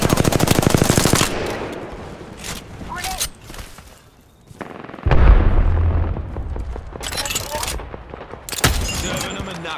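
Rapid bursts of automatic gunfire and heavy blasts in the video game Fuse, loud and close, with brief lulls between volleys and game voices calling out under the shooting.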